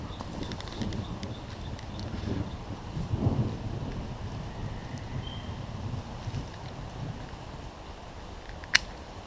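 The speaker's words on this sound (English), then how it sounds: "We got a thunderstorm coming in." A thunderstorm rolls in over a backpacking camp in the Charles C. Deam Wilderness, with low rumbling thunder and steady rain noise, a louder rumble swelling in the middle and a sharp click near the end.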